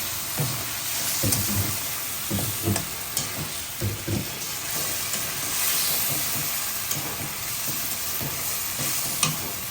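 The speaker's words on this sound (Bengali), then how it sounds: "এই যে যেগুলো ভাজি না এগুলো দিয়ে দিলাম, কষানো হবে এটা।" Vegetables fry and are braised in a pan, a constant soft sizzle broken by rhythmic scraping stirs, close and moderately loud.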